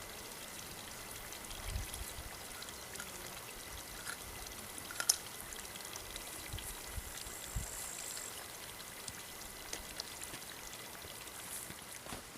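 Water from a fountain at a bushcraft camp in the Vosges forest runs in a continuous soft trickle and splash, faint and steady, with a few small drips and knocks standing out.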